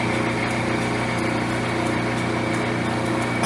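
A lathe facing the bandsaw-cut end of a rusty bolt gives a steady, even motor hum with a faint cutting hiss, continuous and close, with no voices.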